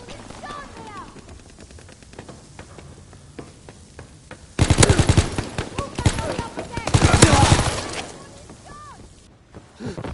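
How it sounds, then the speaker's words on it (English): Strafing gunfire from an enemy aircraft in Call of Duty WW2 on PS4 erupts as two loud, dense bursts of rapid automatic fire, following quieter battlefield ambience with scattered distant shots. "Enemy strafing run inbound!"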